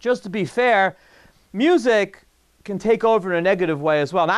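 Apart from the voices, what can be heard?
No distinct noise like a dog, phone or traffic.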